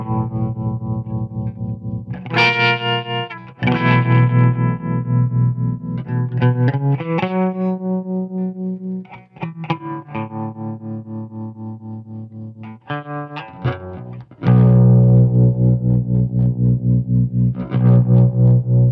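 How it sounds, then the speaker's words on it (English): Tube guitar amp with transistors substituted for the tube in its tremolo circuit, played as an electric guitar with distortion and chorus-like pulsing tremolo; loud chords and single notes ring out continuously with no talk. "Tremolo works just fine."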